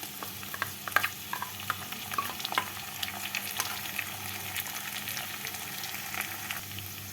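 Fried potatoes sizzle in hot oil after cashew and poppy seed paste is added, a steady crackling fry with scattered sharp pops and stirring clicks throughout.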